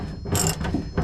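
A ratchet wrench works a bolt on the rear bumper of a Chevelle restomod, giving a close, brief burst of metallic clicking that runs about one second with no talk.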